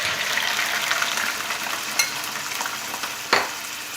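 Liver frying in hot oil, a steady dense sizzle and crackle close by, with a few sharper pops and spatters standing out above the continuous hiss.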